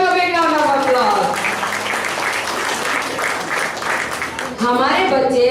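Audience applause for a children's performance at a school show, a dense burst of clapping lasting several seconds, with a voice speaking briefly at the start and end.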